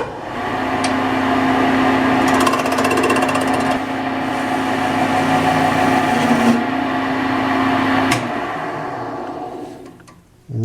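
A power tool grinds and sharpens metal during a screwdriver repair, producing a loud, steady high whine held for several seconds, with brief sharp clicks and a drop as it spins down near the end, heard alone.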